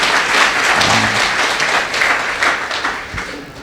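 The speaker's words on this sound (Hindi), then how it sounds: "जरा जोर से तालियां बजाइए उनके लिए" A crowd at a Brahma Kumaris gathering for a Home Guard group in Varachha claps loudly and steadily, a thick continuous patter of many hands with a brief low voice sound partway through.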